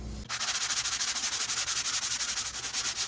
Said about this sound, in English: I'm going to do more block sanding along this edge right here